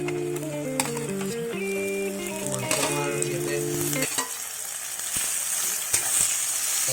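Green chillies frying in a pan for chicken biryani, a steady close sizzle with scraping stirs and light utensil clinks, a bright crackling hiss taking over near the end.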